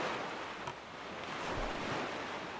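A boat sailing across open ocean in a video game, with a steady rushing wash of waves and wind, continuous and fairly close, no voices.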